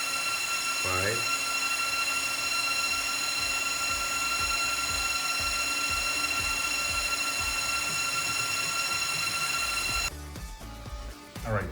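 Cooling fans of a Jasminer X4-1U crypto miner spinning at 5000 RPM, a loud steady whine with sustained tonal hum, a brief rising chirp near the start and clattering handling noise near the end.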